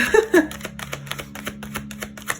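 Tarot cards riffled and shuffled in a full shuffle, a dense run of quick crisp flutters and light slaps close by, with one or two cards popping out.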